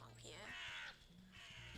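In the Wytchwood video game, a crow gives a short burst of harsh caws that lasts under two seconds, with a voice faintly present in the background.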